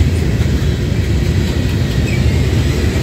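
A Norfolk Southern freight train rolls steadily past, its coil cars and tank cars making a loud, continuous low rumble with faint wheel clatter throughout.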